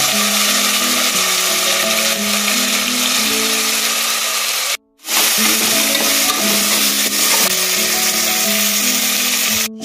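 Goat leg pieces frying with turmeric and salt in a pan, a loud continuous sizzle with scraping and stirring under a steady mechanical whine, broken by one brief pause midway.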